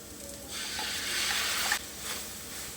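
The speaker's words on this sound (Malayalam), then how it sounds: "ഇനി ഇതിലേക്ക് നമ്മൾ അരച്ചു വെച്ചിരിക്കുന്ന അരപ്പ് ചേർത്ത് കൊടുക്കാം" Ground masala paste is stirred into onions in a hot pan for an ellum kappa dish, a short swelling hiss and sizzle with a brief scrape, nearby and without speech.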